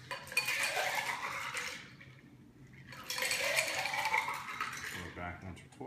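A blueberry tangerine margarita with limeade stirred in a glass pitcher, ice and liquid swirling and clinking in two long sloshing bursts, close and moderately loud.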